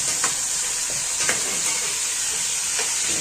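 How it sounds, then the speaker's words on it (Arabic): Carrots stirred and frying in hot oil, a bright steady sizzle with a few scraping stirs from a utensil, loud and close, no talking. "حطينا الجزر والحاجه، هنقلبها كده لغايه ما تاخد نزلها صدمه كده مع الزيت"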